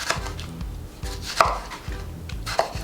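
A knife chops tomato on a board in quick, close, repeated thuds, a couple landing harder, with no talking.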